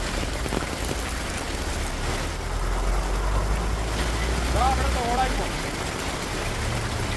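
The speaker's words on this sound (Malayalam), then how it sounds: "എന്താ മഴല്ലേ" Steady heavy rain hisses across the whole clip, a dense broadband wash with a low rumble underneath and a brief faint voice partway through.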